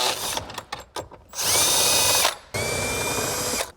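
A power ratchet spins out 10mm bolts on a Lexus LC500 interior, a few short clicky bursts followed by two sustained whirring runs, loud and close.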